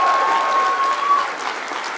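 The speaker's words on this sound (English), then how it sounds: "Big round of applause for the class of" Loud, dense applause from the crowd at the Olin College of Engineering 2024 commencement for the graduating class, a steady wall of clapping that eases off slightly toward the end.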